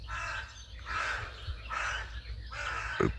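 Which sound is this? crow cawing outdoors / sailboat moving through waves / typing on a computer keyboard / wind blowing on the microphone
crow cawing outdoors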